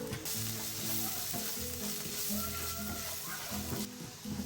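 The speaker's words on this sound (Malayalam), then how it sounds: "സവോളയും കൂടി ഇട്ടിട്ട് ഒന്ന് വഴറ്റിയെടുക്കാം" Onions with turmeric, chili powder, garam masala and salt sautéing in a pan for a soya chunk curry, a continuous close sizzle with occasional stirring scrapes, no talk.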